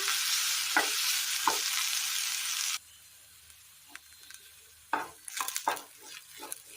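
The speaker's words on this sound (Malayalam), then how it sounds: "ഉപ്പൊരൽപ്പം നല്ലപോലെ ഒന്ന് വാട്ടിയെടുക്കാം" Vegetables sauté with salt in a pan, first with a bright steady sizzle and two light stirs, then quieter after a sudden drop, with a cluster of spoon scrapes and clatters near the end.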